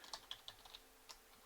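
Password keys tapped on a computer keyboard, a quick run of about eight light, close clicks in a quiet room.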